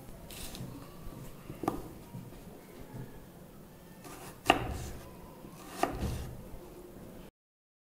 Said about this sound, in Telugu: ఉల్లిపాయని కట్ చేసుకున్నాం